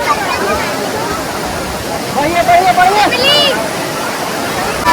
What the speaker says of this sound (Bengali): প্রায় 200 ফুট উঁচু থেকে নামছে এই ওয়াটারফল, তুতলা ভবানী ওয়াটারফল।